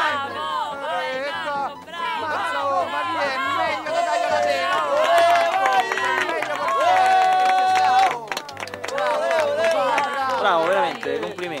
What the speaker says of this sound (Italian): Tifo un po' spropositato